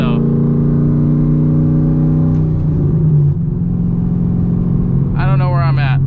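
A cammed C6 Corvette engine droning while driving, a loud steady low hum that shifts pitch slightly midway, heard from inside the car with a brief voice near the end.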